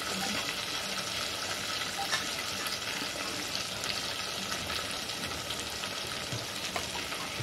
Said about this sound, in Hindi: देखिए, हमारा अदरक लहसुन अच्छे से भून रहा है और अब हम इसमें लाल मिर्च डालेंगे